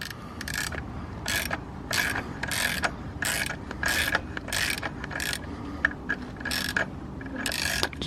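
Rapid bursts of ratchet clicking from a hand ratchet breaking loose transmission mount bolts on an Audi A5, several close, crisp runs of pawl clicks separated by short pauses, with no speech.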